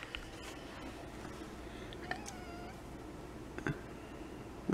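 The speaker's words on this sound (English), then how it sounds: "There's the kitty." A house cat meows a few times, soft and brief, against a low background hum, with a faint wavering cry near the middle of the stretch and no talk over it.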